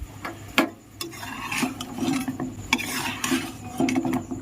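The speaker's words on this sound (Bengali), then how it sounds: "তারপরে মিষ্টিগুলোকে আমি এইভাবে খুব ভালো করে নাড়াচাড়া করে দিচ্ছি।" Flour-and-sugar sweets being stirred through sugar syrup in a pan, with steady scraping and clinking of a spoon against metal, close and moderately loud, in uneven bursts with no talk.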